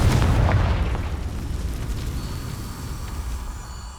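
A Confringo spell explosion in the Hogwarts Legacy video game: a loud, deep boom at the start that rolls off into a long, fading rumble, with no talk.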